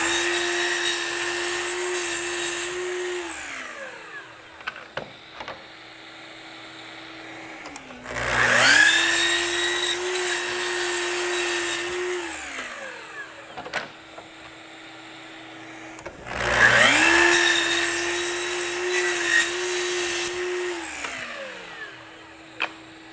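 A Festool Kapex mitre saw cuts wood for theatre flat keystones, with three separate cuts, each a motor spinning up to a loud whine, biting through the timber and winding down, separated by quieter handling clunks.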